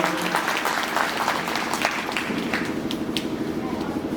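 An audience at a devotional religious gathering, a Vishnu yagna, bursts into steady applause, a dense, continuous clatter of many hands clapping that holds at an even level throughout.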